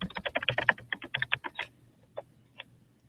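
Fast bursts of keystrokes on a computer keyboard, close and crisp, are followed by a pause and a couple of isolated taps as comments are typed.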